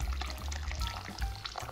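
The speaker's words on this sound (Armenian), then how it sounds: "Արդեն կտրատված կարտոֆիլներին ավելացնում ենք երման կամ լավ տաք ջուր" Hot water is poured over cut potatoes for stuffed potatoes, a soft, steady splashing pour heard quietly and close, with no talking.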